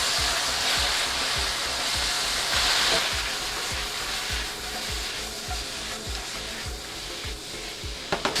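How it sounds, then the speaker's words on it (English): Vegetables stir-fried in a wok with Shaoxing wine, a steady loud sizzle with rhythmic scraping and tossing strokes of a spatula throughout, close up and without talk. "I'm gonna keep stir frying."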